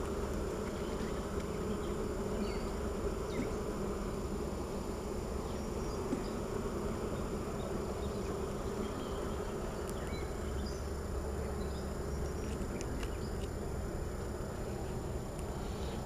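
Honeybees buzzing in an open hive during an inspection, a steady close, continuous hum with no talk over it.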